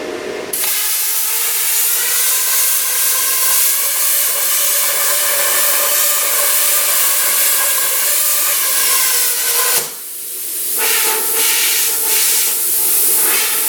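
A Primeweld 50D plasma cutter slicing through metal gives a loud, continuous roaring hiss that runs steadily for about ten seconds, stops abruptly, then restarts with brief airy bursts of hiss.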